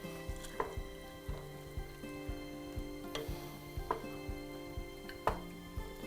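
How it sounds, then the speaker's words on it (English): Spoon stirring frozen corn into chicken corn chowder in a pot, a rhythmic series of soft clanks and scrapes against the metal repeating about twice per second, quiet and close with no talking. "Stir that in there."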